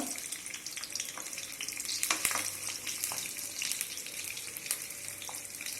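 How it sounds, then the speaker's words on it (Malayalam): Fifteen garlic cloves frying in hot coconut oil for a Kerala beef fry, with a steady close crackling sizzle, occasional stirring scrapes and a few sharp pops. "വെളിച്ചെണ്ണ ചൂടായി കഴിയുമ്പോൾ നമ്മൾക്ക് ഒരു 15 അല്ലി വെളുത്തുള്ളി"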